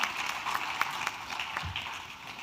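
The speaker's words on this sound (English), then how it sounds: "Let's give them a big round of applause again." Audience applause at an African dairy conference honoring a panel, a steady dense wash of many hands clapping in a hall, moderately loud and fading slightly toward the end.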